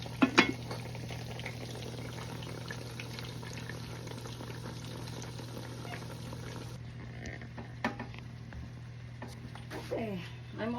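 Vegetables with ground pork and green peas are stirred in a simmering pan, a steady bubbling hiss running throughout with a few sharp utensil scrapes and clicks near the start and toward the end.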